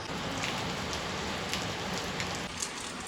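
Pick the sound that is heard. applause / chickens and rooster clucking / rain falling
rain falling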